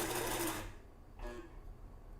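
A sewing machine hems a curve on a fabric face mask, running in a short steady buzz that stops, then gives a brief second burst, fairly quiet with no talking.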